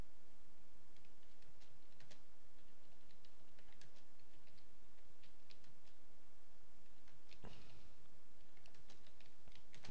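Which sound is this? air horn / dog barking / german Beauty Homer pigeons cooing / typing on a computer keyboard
typing on a computer keyboard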